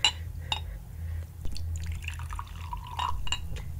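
Wine trickles and splashes into a glass at close range, quiet and a little uneven, over a low background hum with brief clinks.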